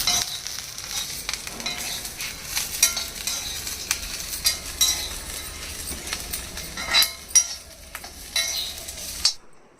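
Metal scraping and clinking as peanuts are stirred while roasting in an iron pan, with a light dry sizzle, irregular strokes throughout, close and fairly loud, no talking.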